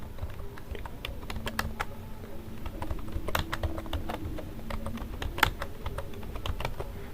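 Steady rapid typing on a computer keyboard while entering Python code for a square-root program, with dense, irregular key clicks and occasional louder keystrokes, close and alone with no talking.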